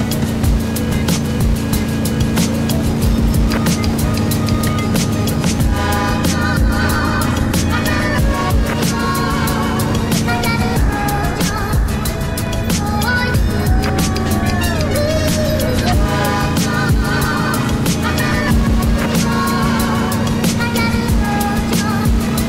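A MasterCraft wakeboat's engine drones loudly and steadily while it tows a surfer, with water rushing and churning throughout and faint whistles and voices mixed in.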